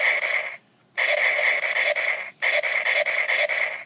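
A Gaburicaliber toy gun from Zyuden Sentai Kyoryuger gives its normal firing sound. A buzzing electronic tone pulses in three bursts with short gaps between them.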